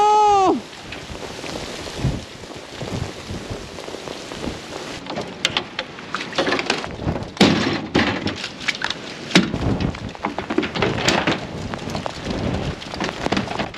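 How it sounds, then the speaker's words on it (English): Heavy rain pelts a GoPro camera outdoors on a farm, a dense, loud, steady hiss with sharp crackling spatters of drops striking the housing close by, continuing throughout without speech. "the rain was making the GoPro not enjoy life"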